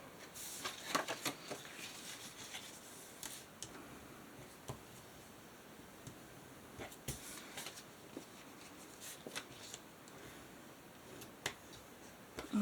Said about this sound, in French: ce que je vais faire, c'est que je vais plier.